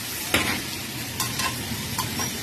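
Vegetables sautéed in a pan with mushrooms and string beans, a steady close sizzle broken by a few sharp stirring scrapes, with no voices.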